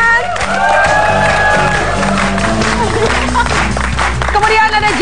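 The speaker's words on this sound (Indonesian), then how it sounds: "Chef Harada, kita beri tepuk tangan." Studio audience on an Indonesian television show breaks into applause and cheering with scattered whoops, loud and busy, layered over a musical sting and a presenter's voice.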